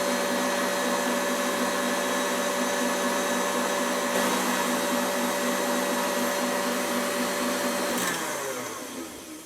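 A mixer whirs through King Cake batter with a loud, continuous motor drone and a steady tone, then winds down and fades near the end.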